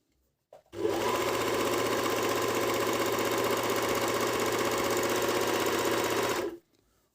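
A Medion MD10685 overlock machine runs steadily while sewing a rolled hem, a loud continuous mechanical whirr lasting about six seconds close up, starting and stopping abruptly with no talking.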